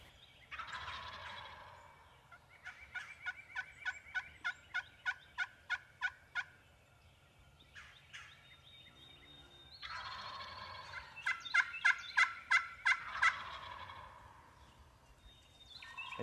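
Wild turkeys gobbling outdoors in two long runs of rapid, rattling calls, each stuttering burst repeated in quick rhythm at moderate distance, with a quiet pause between the runs.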